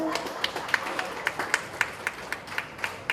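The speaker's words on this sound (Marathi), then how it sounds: "निदान टाळ्या तरी वाजवा" Audience at a senior citizens' association gathering in Goregaon clapping, a sparse, moderately distant patter of individual claps in an uneven rhythm, with faint background murmur.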